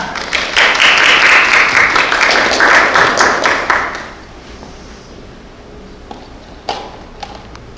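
A forum audience at a policy research event applauds loudly for about four seconds. The sustained clapping then drops away to a quiet room with a few scattered taps.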